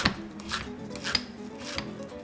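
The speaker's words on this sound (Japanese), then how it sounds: "小口切りにしていきます。" A kitchen knife slicing food into thin rounds on a cutting board, a steady series of crisp, close taps and scrapes with no talking.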